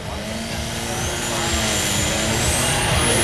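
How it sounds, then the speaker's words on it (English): A 600kg compact diesel tractor revs up at a Great Eccleston tractor pulling event, the engine note climbing steadily and growing louder over a few seconds, with a commentator talking over it. "He builds the RPMs up now."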